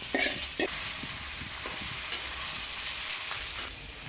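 Leafy greens stir-fried with browned garlic and dried chili, a steady bright sizzle in hot oil with a few sharp scraping stirs near the start and intermittent soft clatters throughout.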